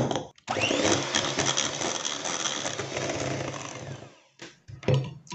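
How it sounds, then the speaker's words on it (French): A hand mixer whirs steadily for about four seconds through lemon cake batter, with loud continuous motor noise. It cuts out and then gives a few short bursts at the end. "Pareil, je viens mixer."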